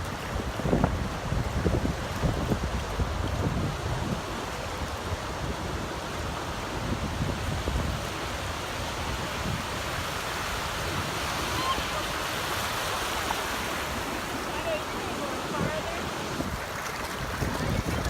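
Pacific Ocean surf rolls onto a beach under heavy wind buffeting the microphone, a constant loud roar of waves and gusts with a voice occasionally heard over it.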